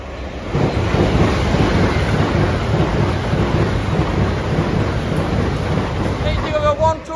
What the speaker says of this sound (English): Next up, a fast train from Aberdeen to London King's Cross